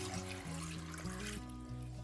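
Water pouring into a pot holding spaghetti noodles, canned tomatoes with their juices and other ingredients, a steady close splashing stream that changes pitch as the pot fills.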